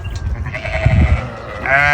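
Goats bleat nearby on a desert goat farm over low background rumble, a wavering cry rising clearly at the end.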